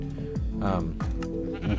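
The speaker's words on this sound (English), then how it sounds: "I'm gonna see if I can find a sheep somewhere around here" A sheep in Minecraft Bedrock Edition gives a wavering bleat under a person's continuous talking, with game music and other noise in the background.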